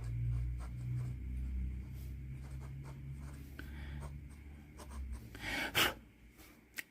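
Pilot Custom 912 fountain pen with a fine FA nib and Platinum Carbon Black ink scratching and scraping across paper in close, faint strokes, with a brief louder scrape near the end over a low room hum.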